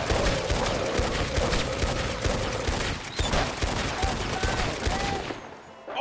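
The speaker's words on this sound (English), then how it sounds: "Oh, they're shooting at me!" Video game gunfire aimed at an outlaw, a dense, sustained barrage of rapid shots close by, cracking continuously for several seconds with a brief lull near the end.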